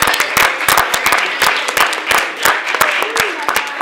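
A festival audience claps loudly and steadily, with individual sharp claps standing out from the crowd's applause and faint voices underneath.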